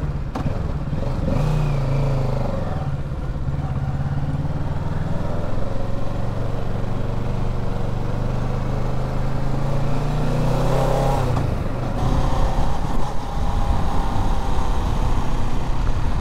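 A motorcycle ride recorded from the bike: a loud, continuous engine drone with wind rush, shifting pitch as the rider speeds up and slows down, with a brief clattering bump partway through.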